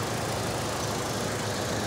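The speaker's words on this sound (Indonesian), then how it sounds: "Dan ini suara mesinnya." A rear-wheel-drive car with a 4-speed automatic idles in a steady, dense mechanical hum. The drone is close and unchanging, with no talking.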